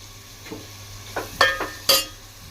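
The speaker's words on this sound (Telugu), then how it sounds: "ఇందులోనే ఇందాక కట్ చేసి పెట్టుకొని ఉన్న టమాటాలు కూడా వేసుకోవాలి" Tomatoes frying in ginger garlic paste for Hyderabadi shaadi ka dalcha get stirred, a low sizzle broken by four or five distinct scraping strokes of the spoon against the pan.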